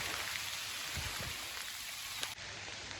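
Heavy rain pours down in a continuous even hiss with a few louder drips, steady and moderately distant, with no voices, until it cuts off abruptly near the end.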